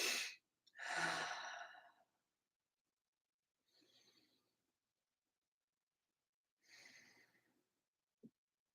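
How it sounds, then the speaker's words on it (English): Slow breathing during a qigong session. Loud, close inhales and exhales come in separate breaths with long silences between them, and a small click sounds at the end. "So we're just going to start by noticing our breath."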